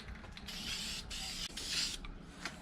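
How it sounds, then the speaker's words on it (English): Aerosol spray paint hisses in several short bursts onto a custom Radio Flyer wagon, close and steady, each burst broken by brief pauses and small clicks of the nozzle. "the reason why I decided to go with spray paint"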